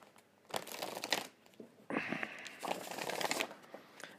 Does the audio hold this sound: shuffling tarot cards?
yes